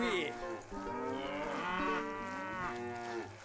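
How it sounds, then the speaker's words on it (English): Cattle mooing in the video game Stronghold HD, a long drawn-out low moo overlapping with further moos from several cows, steady and clear with no talk over it. "The constant sound of cows is a little bit annoying"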